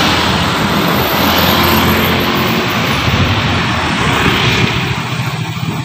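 An Isuzu Elf minibus passes by loudly on a road at Yomani in the morning, a steady broad engine and tyre roar that swells and fades slightly as it goes.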